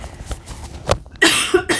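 Several sudden, harsh coughs burst out close to the microphone, a few small ones first and then two louder, forceful bursts near the end.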